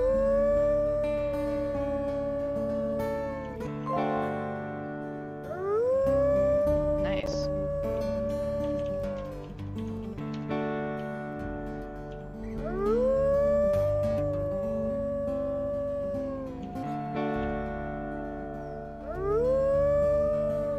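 Wolves howling in the WolfQuest multiplayer game: a series of long, rising and falling howls, several overlapping, returning roughly every six seconds over a steady game background, loud and near.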